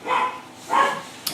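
A Chihuahua gives two sharp, high-pitched barks close by, followed by a brief clatter.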